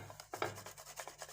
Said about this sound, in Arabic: وغادي ناخذوا هاد الفص ديال الثوم غادي نحكوه فيها